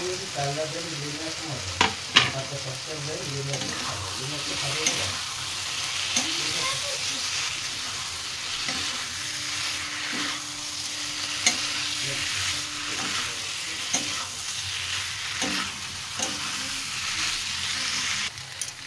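Paneer, capsicum and onion sautéed in a kadai for kadai paneer, with steady sizzling and repeated scrapes and clinks of a spatula stirring, close and fairly loud with no talk.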